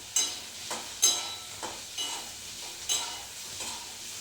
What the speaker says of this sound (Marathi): इथे आता कढई तापत ठेवली, त्यात तेल टाकले थोडंसं आणि कांदा टॅमॅटो भाजून घेतले